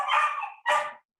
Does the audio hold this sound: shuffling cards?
no